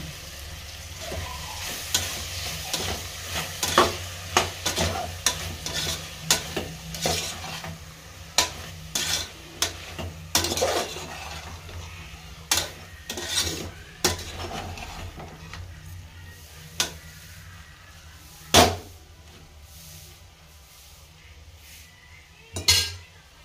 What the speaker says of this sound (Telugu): అవి ఇప్పుడు మసాలా వేసుకుందాము. వేసుకొని కాస్త కలుపుకుందాము.